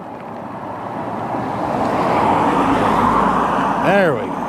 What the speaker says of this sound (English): two cars coming up behind me. Trying to let them pass,